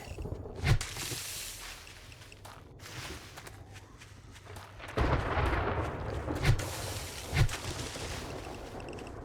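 Thunder rolls in from an approaching storm in 7 Days to Die, low heavy booms and rumbling swells, fairly loud, with a few sharp thuds and footsteps mixed in.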